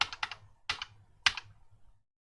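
Computer keyboard keys are pressed while working in AutoCAD, three quick clusters of crisp close clicks with short pauses between them, quiet and without talk.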